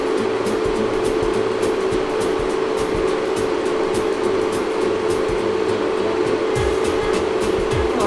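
A cheap small spot cooler runs inside a camper van, giving a steady loud whooshing fan drone with a constant hum beneath it, unbroken from start to finish.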